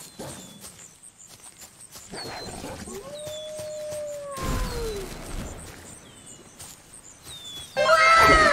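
A dog howls in long wavering tones, with faint high whines scattered through, ending in a brief louder burst of mixed noise.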